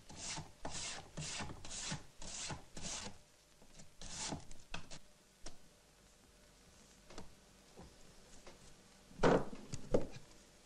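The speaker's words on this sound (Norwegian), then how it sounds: "Trekkskiva må pusses glatt, både med rasp og sandpapir" A rasp and sandpaper rub over a wooden draw plate for tin-thread work: a run of about six steady, even rasping strokes at first, then scattered scrapes and a couple of louder scuffs near the end, close and without speech.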